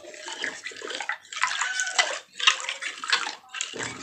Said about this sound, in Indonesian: jadi kita aduk sampai merata seperti ini ya, jadi dia akan kelihatan hijau